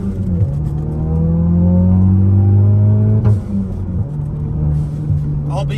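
A Ford Focus RS with a stage 1 tune and aftermarket exhaust accelerates hard, its engine note rising in pitch through the revs, a brief gear change, then climbing again, loud and close from inside the car.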